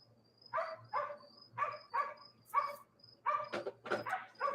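Distant dog barking repeatedly, about ten faint barks in an uneven rhythm, some closely clustered near the end, over a quiet backdrop with a low hum and a thin insect-like chirp.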